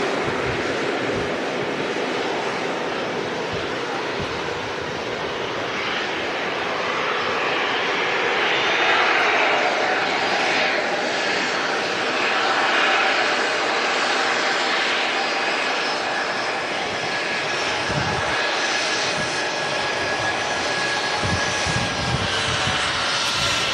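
A Ryanair airliner arriving from Faro at Manchester Airport, its engines roaring loud and steady nearby, swelling slightly as it passes, with a constant rushing wash throughout.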